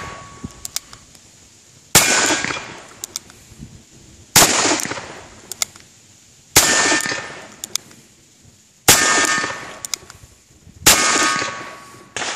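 A Ruger Single Six .17 HMR revolver fires a string of shots outdoors. Sharp, loud cracks come roughly two seconds apart, each with a brief ringing tail, and no talking is heard.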